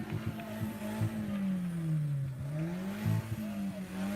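A car engine nearby revs up and down in a steady drone that dips and rises again, with a few sharper pulses and a faint background hiss.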